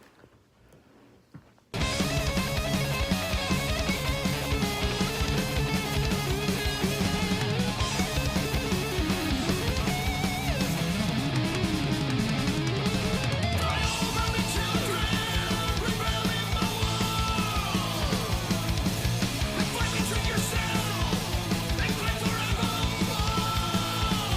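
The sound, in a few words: traditional heavy metal song playing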